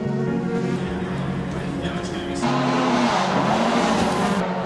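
A Toyota rally car races hard, its engine droning loud and close with a sharp rise in intensity midway as it pushes on.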